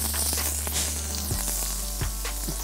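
Trout, salted inside, frying in a smoking-hot pan give off a loud, steady sizzle that runs unbroken for a couple of seconds, with a few low knocks of the pan partway through.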